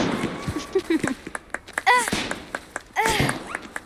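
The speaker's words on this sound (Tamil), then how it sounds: "பட்டாசு வெடிச்சிட்டு இருக்கீங்க" Firecrackers going off in the video game Hogwarts Legacy, a handful of sharp pops and thuds scattered irregularly, with whistling crackles near two and three seconds, mixed with game effects and occasional talk.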